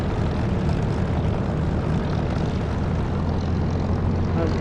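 Spitfire piston engine from the DCS flight simulator taxiing on the ground, a steady, loud propeller drone with low throbbing that holds constant throughout, no speech.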